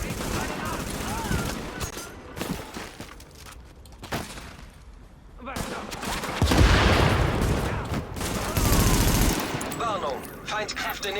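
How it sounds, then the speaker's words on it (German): Light-weapons gunfire in the video game The Division, with loud bursts of automatic fire and single shots near and far, under German radio chatter and talk. "Beschuss durch leichte Waffen. Unter Beschuss."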